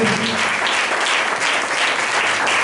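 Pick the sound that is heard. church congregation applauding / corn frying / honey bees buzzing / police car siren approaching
church congregation applauding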